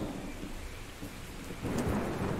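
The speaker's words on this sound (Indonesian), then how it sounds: "Oke, di luar hujan" Steady rain pours outside during a thunderstorm, with a low rumble of thunder swelling near the end; no voices.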